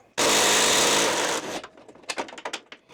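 An electric power tool with a socket extension loosens a suspension leg bolt, secured with Loctite, on a Samsung WF80F5E5U4X washing machine. It gives one loud, close whirring burst of about a second and a half, followed by clattering and rattling of metal parts.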